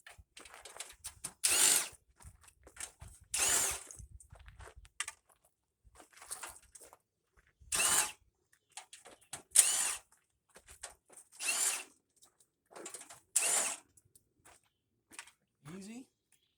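A power driver backs screws out of an air conditioner's top panel, seven or eight short loud whirring bursts spaced a second or two apart, with someone talking quietly between them.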